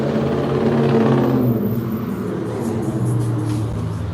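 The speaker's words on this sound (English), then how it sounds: "This car with the loud engine." A car with a loud engine idles and rumbles nearby in a parking lot, a deep steady drone that shifts in pitch as it moves, loud throughout the four seconds.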